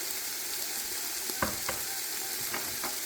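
Pimento berries and cloves dropped into a hot pot of sizzling oil, a steady frying hiss with a few soft clicks and taps as the whole spices land and get stirred, close and unaccompanied by talk.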